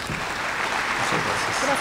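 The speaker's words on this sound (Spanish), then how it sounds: "Vamos a recibirlo con un fuerte aplauso" A scientific conference audience on metabolic syndrome applauds a guest speaker, a steady wash of many hands clapping at moderate loudness, continuous and even throughout.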